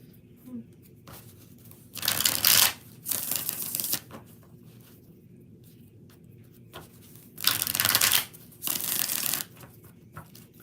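Two pairs of crisp, riffling card shuffles, each a quick burst followed by a second, separated by a few seconds of quiet room tone.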